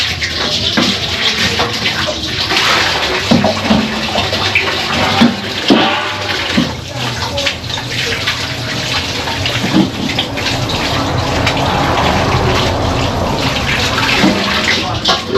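Water pours and splashes steadily into a container outdoors for outdoor cooking, a continuous rushing fill lasting throughout, close and fairly loud, with faint voices now and then.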